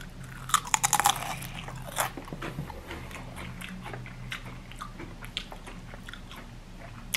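Loud, close crunching of Walkers Max strong fiery peri-peri crisps, a burst of sharp bites near the start followed by steady chewing crunches throughout, with no talking.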